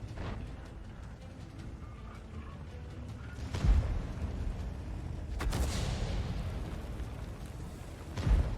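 Tank cannon shots in a tank battle video game: several heavy booms spaced seconds apart, fairly distant and moderate in loudness, each trailing a rumbling decay, with faint ambient battle noise between.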